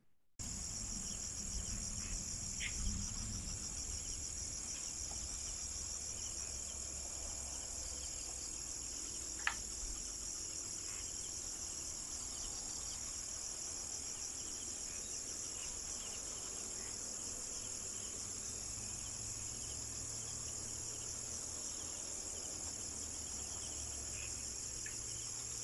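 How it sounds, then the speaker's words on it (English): Insects buzz and chirr in a steady, monotonous drone across an acacia plantation forest, crickets dominating the faint outdoor field recording, with a single sharp click midway and no voices. "It's very monotonous, and all we hear is the buzzing of insects."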